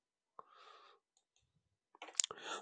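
Computer mouse clicks on a Windows server, a few sharp, quiet, close clicks separated by short rustles and silence.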